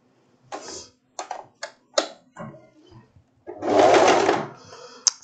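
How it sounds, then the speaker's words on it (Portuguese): A domestic sewing machine stitches a wrap dress in several short bursts of whirring needle action, then one longer steady run of stitching, loud and close with quiet pauses between. "Então, vamos lá costurar agora."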